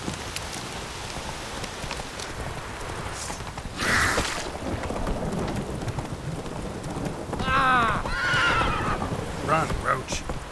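Roach, a horse in The Witcher 3, neighs loudly twice amid a game scene with rain and rumbling thunder, a steady pounding of movement running beneath throughout.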